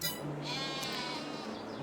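A video game sheep bleats in a drawn-out, wavering call over a steady background hum, close and moderately loud.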